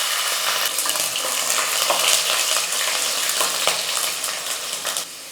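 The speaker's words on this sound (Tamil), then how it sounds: "நான் ஒரு 20 பல் பூண்டு சேர்த்துக்கிறேன்." About twenty whole garlic cloves frying in hot oil, a loud dense crackling sizzle with sharp pops throughout, heard alone without any talk.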